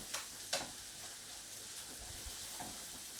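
Apples sautéing in butter in a pan, a faint continuous sizzle and hiss with a couple of brief louder crackles near the start.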